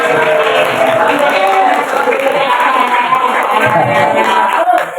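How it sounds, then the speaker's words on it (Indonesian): Loud, sustained crowd applause with cheering fills the room for a quiz contestant at an Islamic boarding school knowledge competition, dense and continuous with no break. "Tepuk tangan untuk Ansori"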